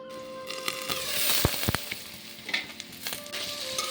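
Rohu fish fries in a pan with salt and turmeric, giving a steady crackling sizzle with sharp pops and a few louder bursts as the pieces are stirred, close and with no talking.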